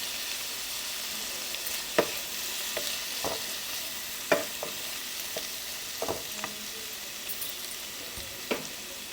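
Avocado sabji with lemon juice and coriander leaves is stirred in a pan. A soft, steady sizzle runs throughout, with a few faint scrapes and clinks of the spoon scattered over it and no talking.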